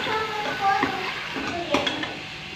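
Chicken and peas fried together in a pan, with a spatula stirring and scraping through a continuous close sizzle and a couple of light clinks.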